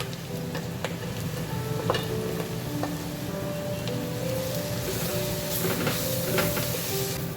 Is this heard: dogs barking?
no